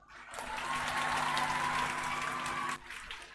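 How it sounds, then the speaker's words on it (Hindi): A classroom audience in a Patna coaching lecture bursts into loud, sustained clapping for about two and a half seconds, then it drops away abruptly. "अपने लिए जोर से ताली बजाओ जरा।"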